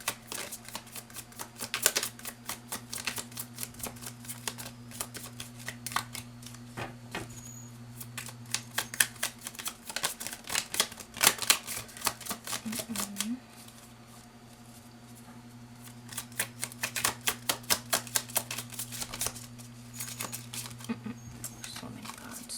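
Tarot cards are shuffled and drawn in quick, close runs of dry riffling flicks and taps, broken by a short quieter pause midway, with a steady low hum underneath.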